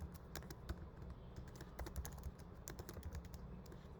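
Quiet, rapid keystrokes from a computer keyboard as code is typed, an irregular stream of soft taps under low background noise, with no voice.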